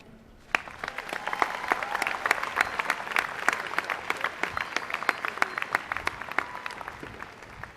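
Sustained applause from the audience at Mercer County Community College's 50th annual commencement ceremony, dense hand clapping starting abruptly and holding steady for several seconds.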